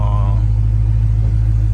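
A muscle car with stock exhaust, mufflers, resonators and catalytic converters, a Camaro SS or Scat Pack Charger, idles with a deep, heavy, steady rumble close by, loud and continuous, with a brief voice at the start.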